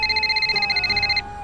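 A telephone rings with a rapid electronic warbling trill that stops abruptly near the end, close and clear over a faint background hum.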